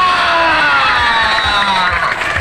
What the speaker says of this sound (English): please help me welcome a big round of applause